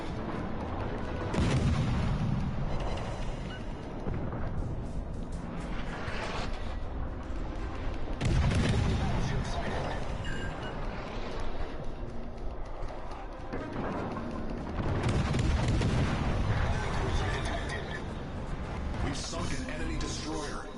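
A warship in World of Warships Legends fires its guns and launches torpedoes, heavy booming blasts recurring every few seconds over a constant battle rumble, with someone talking over the action.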